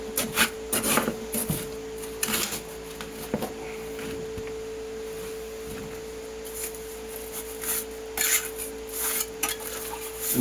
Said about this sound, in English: taking a trowel and then compressing it with a trowel